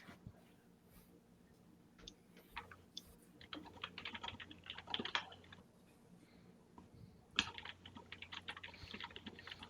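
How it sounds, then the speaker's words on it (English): Rapid clicking of keyboard typing within a video game, bursts of quick keystrokes that come and go against a quiet low background, faint overall and growing busier midway. "there's so much typing."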